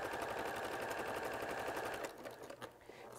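A sewing machine stitching around a corner of two pieces of fabric runs steadily with a fast, even needle rhythm, then slows and stops with a few scattered clicks near the end.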